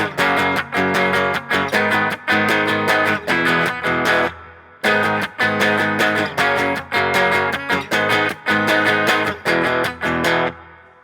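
Electric guitar strums a chord progression in a driving, rhythmic pattern, loud and distorted, with a brief pause midway before the progression repeats.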